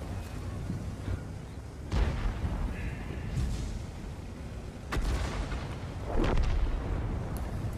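Self-propelled artillery firing in World of Tanks: several loud, booming shots at irregular intervals over a constant rumbling battle background, with no talk.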